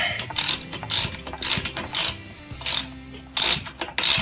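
Ratchet clicking in repeated bursts while assembling a TaoTao DB14 110 dirt bike, about seven close, crisp cranking strokes in steady rhythm with short pauses between.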